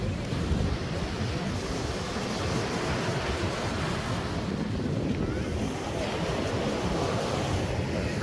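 Rough surf churns continuously at Flic en Flac, Mauritius, a dense roar of breaking waves mixed with gusty wind buffeting the microphone.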